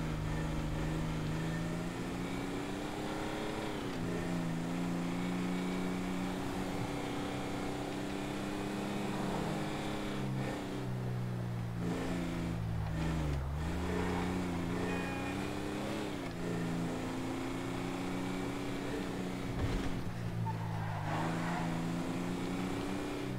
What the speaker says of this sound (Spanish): qué manera tan buena de estacionar un vehículo